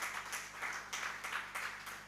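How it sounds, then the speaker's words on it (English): Audience at a 25th-anniversary celebration of a forex bureau and money remittance association claps for a sponsor, a short burst of scattered, uneven hand clapping filling the room. "we give him a big round of applause."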